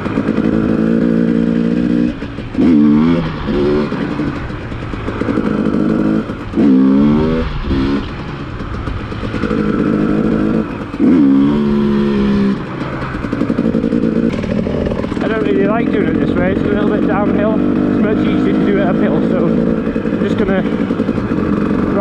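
Dirt bike engine revving in repeated bursts as the rider practices wheelies, loud and close, with throttle rises and drops recurring every few seconds and a steadier higher drone toward the end.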